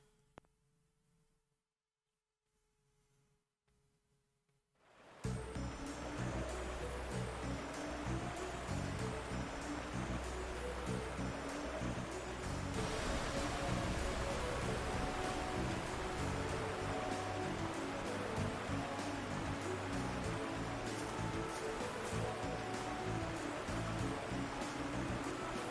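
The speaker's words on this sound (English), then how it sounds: "they boarded a boat and made their way down the stream" A small boat rushes down a river stream in the video game Trails of Cold Steel II. After a few seconds of near silence, a loud, steady roar of churning water takes over and keeps going to the end.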